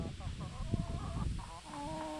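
Several chickens cluck and murmur nearby, overlapping soft calls and drawn-out notes against a low outdoor background.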